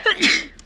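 A single quick sneeze, close and fairly loud, with a short breathy burst and a faint trailing sound.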